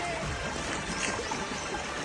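Stream water rushing along the waterway below Deo Jharan waterfall near Sambalpur, India, a steady broadband outdoor wash of flowing water heard close and continuous with no voices.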